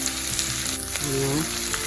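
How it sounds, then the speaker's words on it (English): Close, continuous sizzling of potatoes and onions frying in a hot pan, a steady crackling hiss with faint background hum. "You can kind of hear them. They're frying."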